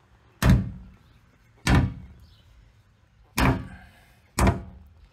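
Four separate hollow metallic thunks as a drained Grumman LLV mail truck fuel tank is struck to test whether it can be punctured, evenly spaced about a second apart, loud and close, with nothing in between.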